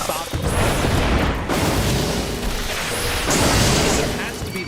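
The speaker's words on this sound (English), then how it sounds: "how many is it going to take to make these bombs stop explosion?" Explosions from bombs in the video game Final Fantasy XIV, a dense, continuous barrage of booms and bursts that stays loud throughout, with talk mixed in over the battle noise.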